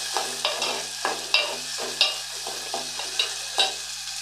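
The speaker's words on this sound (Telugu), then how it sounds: "ఈ టమాటాలు మగ్గేంత వరకు వేయించుకోవాలండి." Tomatoes being stirred and fried in a pan for biryani, with steady sizzling under a series of regular scraping stirs roughly every half second, close and fairly loud.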